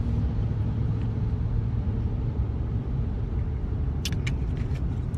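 A car rolling along the road on a morning drive, heard from inside as a steady low rumble of engine and tires, with a few faint rattles near the end.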